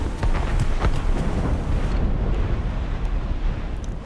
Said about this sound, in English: Cannon fire. I saw it. Deep within the fog.